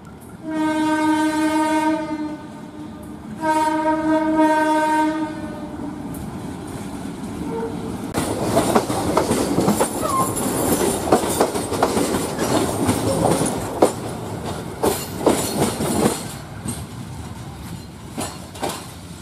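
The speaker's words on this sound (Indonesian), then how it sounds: "ketibaan kereta di akhir tahun" A train horn sounds in two long blasts, then the rumble and rhythmic clatter of railcars rolling past close by.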